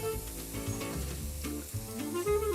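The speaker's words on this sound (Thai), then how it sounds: "ในขั้นตอนนี้นะคะเราจะผัดกระเทียมให้หอมก่อนนะคะ" Garlic stir-fries in a hot pan with a steady close sizzle and light stirring scrapes, alongside sustained tonal sounds and no speech.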